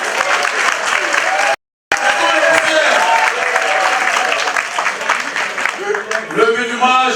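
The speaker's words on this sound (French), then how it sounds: "Applaudissez quand même." A crowd at a public event before the prime minister in Côte d'Ivoire claps in a loud, continuous roar that is broken by a brief dropout. A voice sounds over the clapping toward the end.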